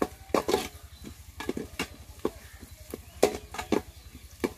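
Onions and green chilies being sautéed in a pan, with a steady rhythm of sharp spatula scrapes and stirring strokes over a faint low sizzle.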